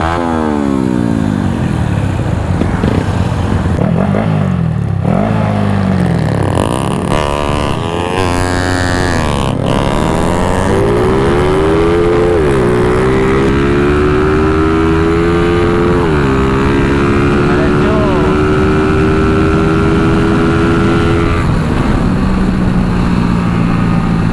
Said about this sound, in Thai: ไหนขอเร่งดูหน่อย ขอเร่งดูหน่อย